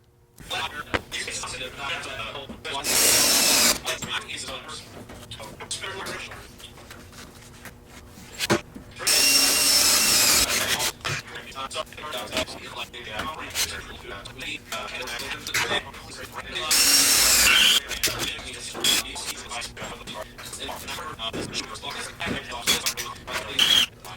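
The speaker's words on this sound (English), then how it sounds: "we're just going to drill little holes for these plastic clips to go into" Power drill boring small holes for plastic harness clips on a Mustang during turbo prep, several loud bursts of drilling separated by quieter stretches where someone talks.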